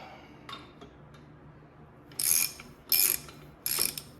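A ratchet snugs a nut on aftermarket 2.5 billet aluminum coilovers for an F150, giving three short, crisp bursts of clicking after a few faint taps, close and otherwise quiet.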